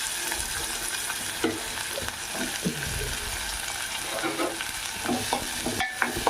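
Onions and green chillies fry for a country chicken curry, giving a dense, steady sizzle up close with repeated stirring scrapes and clinks of the spoon against the pan.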